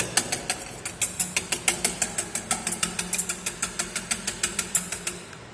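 Egg coating mixture beaten with a whisk in a bowl, a fast, even run of sharp clicking taps against the sides, close and steady for several seconds.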